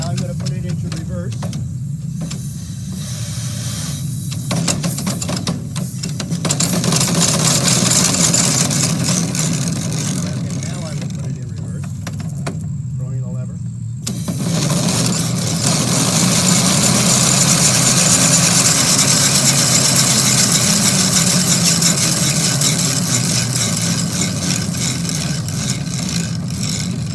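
A Stanley steam car's engine, chain-driven to the rear axle, runs in reverse with a steady low mechanical chugging and hiss, loud and close throughout, while someone talks over it.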